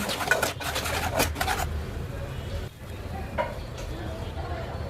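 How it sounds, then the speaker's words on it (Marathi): Onion and coconut paste sautés in a prawn curry pan with a close sizzle. Scraping stir strokes and clinks come in bursts at the start, then the sound settles into a quieter, steady frying. "नंतर त्यामध्ये कांद्या खोबऱ्याचं वाटण घाला आणि परत परतून घ्या"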